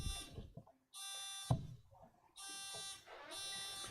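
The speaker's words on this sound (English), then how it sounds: "let's do a buzzer check real quick" A quiz-competition buzzer at a Bible Bowl championship is tested, sounding three loud, sustained electronic tones, each about a second long, separated by short pauses, with a brief thump and faint room noise between.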